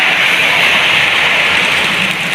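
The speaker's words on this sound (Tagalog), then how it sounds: "hanggang kailan kaya tatagal itong ulan natin" Steady rain pours continuously, a dense hiss filling the whole clip without breaks or voices.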